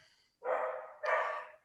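A dog barks twice up close, two loud, full barks in quick succession with no talk around them.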